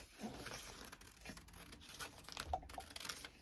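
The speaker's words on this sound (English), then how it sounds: "So I'm going to cut this out with my paper scissors." Paper scissors snip and crinkle through a paper sewing pattern at a table, with soft, irregular cuts and rustles, close and fairly quiet.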